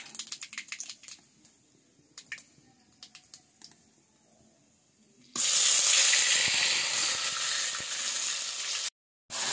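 Masala fries in a pan for a mixed vegetable curry with paneer and cauliflower, first as light scattered ticks and scraping, then as a loud, steady, close hiss and sizzle that briefly cuts out near the end.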